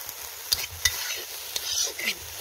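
Red amaranth leaves fry in oil in a pan with a soft steady sizzle, broken by a few sharp clinks and scrapes of a spatula stirring, close and fairly quiet.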